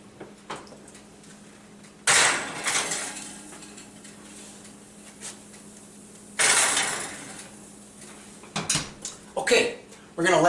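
Baking dishes of chicken parmigiana topped with cheese are set into a preheated oven: two loud clattering bursts of dish and rack contact with an oven door clunk, separated by quiet kitchen stretches and soft background talk.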